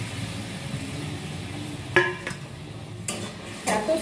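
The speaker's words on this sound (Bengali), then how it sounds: "আলুগুলো ভালো করে কষিয়ে নিই।" Boiled potatoes are stirred and fried in a pan for dhoka curry. A soft sizzle runs throughout, broken by several clinking scrapes of a utensil against the pan.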